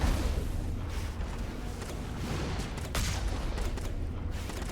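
In the Mass Effect video game, a dense barrage of gunfire and grenade blasts hits a Geth dropship, with rapid overlapping shots and booms at moderate loudness throughout.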